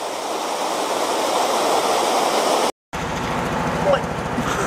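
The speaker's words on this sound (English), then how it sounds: "I'll wait till the water level gets above before opening the other paddle" Water surges into a canal lock through an opened paddle, a loud, steady rushing roar that cuts out briefly and then resumes, continuing with rumbling turbulence.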